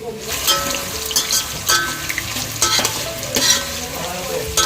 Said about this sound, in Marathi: शेंगदाणा आणि कढीपत्त्याची काकीने तडका दिलेला आहे शेंगदाणे पण फ्राय करून घेते